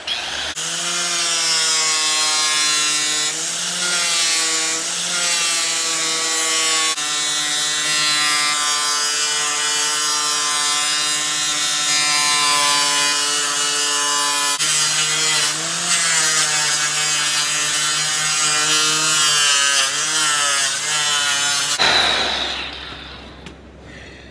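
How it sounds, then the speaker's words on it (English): A great big grinder polishes the fuel tank of an FLD120 truck, a loud, sustained high whine with slowly shifting pitch that runs nearly the whole time before cutting off near the end. "I take my great big grinder, fire it up, and finish it up."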